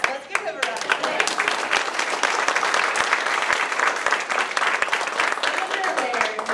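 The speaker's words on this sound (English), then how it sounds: "let's give him a round of applause" A full hall bursts into dense, sustained applause honoring a state senator at a school district's State of the District event, many hands clapping loudly and steadily throughout.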